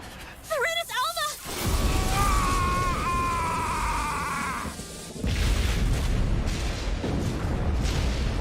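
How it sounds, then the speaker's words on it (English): A sudden explosion in the video game Tales of Arise, a loud sustained roaring blast with rumbling body, preceded by brief vocal exclamations and followed by a second surge of noise, with speech around it. "This is a sudden explosion."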